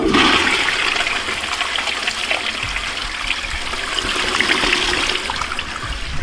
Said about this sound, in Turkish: Hatta şöyle bir sifona basalım.